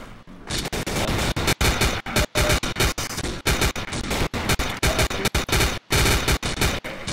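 Automatic gunfire in the zombie shooter game Codename Cure, loud sustained bursts of rapid shots broken by brief gaps, with no one talking over it.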